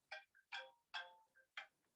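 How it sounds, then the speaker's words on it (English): A telephone ringtone chirps in about four short electronic bursts, quiet and slightly distant, during a talk recorded in a room, with no voices over it. "excuse that phone call"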